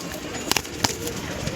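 Tournament pigeons of Andra, Kalanka and Phulshira breeds coo in a loft, a few short, soft coos standing out over a quiet background of light rustling.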